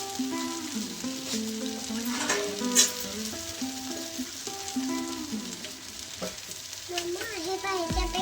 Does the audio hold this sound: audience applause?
no